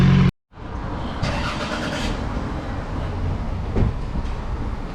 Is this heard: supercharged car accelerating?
yes